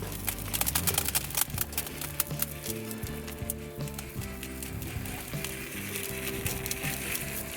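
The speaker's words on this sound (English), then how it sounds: "Now I'll spread some 5-6mm gravel over the top." Small 5-6mm gravel is spread by hand over the tops of freshly potted succulents, giving a continuous close rattle of tumbling stones with sharper clicks and scatters.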